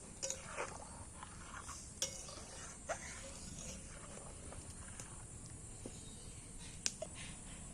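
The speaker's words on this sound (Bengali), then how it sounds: "এইবার আমি নাড়াচাড়া করে নিচ্ছি একটু" Hilsa fish and eggplant curry stirred in a pot, faint scattered clinks and scrapes of a utensil against metal over a steady low background hiss.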